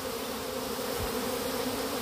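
A thick, continuous buzzing of a honeybee swarm pouring from a hive hums steadily throughout, with no voices.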